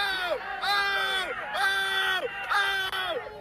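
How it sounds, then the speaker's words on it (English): A crowd of onlookers at a street confrontation, cheering and yelling in repeated swelling bursts of excited, high-pitched shouts and whoops, loud and close, with a few voices standing out above the mass. "Look at everybody cheering her on"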